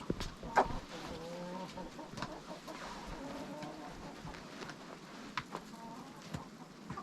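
Farmyard chickens clucking at fairly close range while being called in for feed, soft irregular clucks and a few sharper calls scattered across a steady low outdoor background, with no clear talk.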